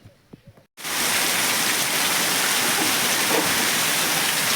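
After a short moment of quiet voices, heavy rain abruptly begins and pours down, a loud, dense, continuous hiss close by that holds steady to the end.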